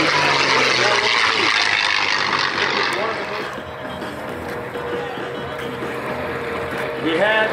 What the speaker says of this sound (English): the B-17 bomber flying fortress, followed by our Messerschmitt 109 with the P-51 Mustang in pursuit.